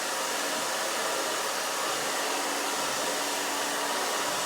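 A hair dryer blowing on a short pixie cut while a brush smooths it down, a close, loud and unbroken airy roar that holds steady throughout with no voices.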